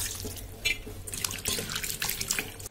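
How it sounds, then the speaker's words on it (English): Running water splashes and trickles as raw mango slices are rinsed in plain water in a bowl, with short bursts of sloshing and dripping, close and fairly loud. "and then wash them in normal water"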